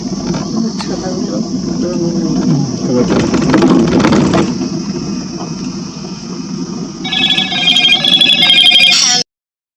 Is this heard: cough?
no